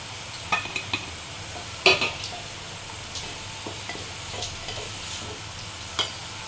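Jaggery mixture with raisins is stirred in a pan for poha payasam, with a soft bubbling hiss under scattered light clinks and scrapes of a spoon on the metal, close and moderately quiet, no speech.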